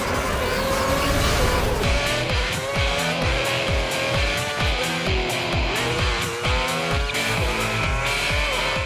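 Formula One cars in the F1 2010 racing game, engines screaming at high pitch with rapid gear-shift drops and rising whines, several cars roaring close together with tire squeal, loud and continuous.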